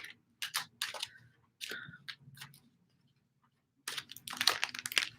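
A deck of reading cards is shuffled up close in three bursts of rapid papery clicks and riffles, separated by short quiet gaps, with no talking.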